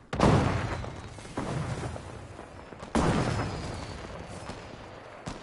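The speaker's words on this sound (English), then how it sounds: "Shoot a grenade." Grenade launches and blasts in Fortnite: two heavy booms roughly three seconds apart, each with a sharp onset and a long rumbling decay, loud and close, with a smaller pop near the end.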